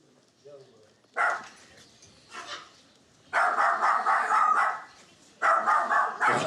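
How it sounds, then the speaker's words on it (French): A dog barks in short bursts, a couple of single yaps then longer runs of loud barking, with faint voices nearby between them. "j'ai entendu aboyer"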